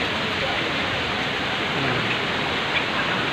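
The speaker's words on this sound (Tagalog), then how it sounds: "Itong sitwasyon ngayon ito, oh, maulan." Heavy rain pours down steadily outdoors, a dense and constant hiss that fills the whole stretch without any break.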